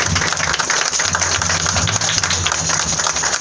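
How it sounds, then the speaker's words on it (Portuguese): A Folia de Reis procession in Arceburgo gets steady, loud applause from a crowd, a dense wash of clapping mixed with a low musical drone. "peço as palmas pra vocês"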